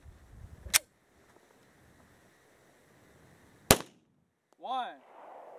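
Two sharp, loud gunshots ring out a few seconds apart during outdoor target shooting in the snow, with near silence between them and a brief voice afterward.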